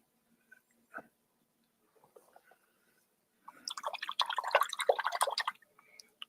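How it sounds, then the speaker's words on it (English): An acrylic paintbrush swished and rinsed in a water cup, a few faint drips early, then a louder burst of sloshing and dripping lasting about two seconds. "Rinse that off"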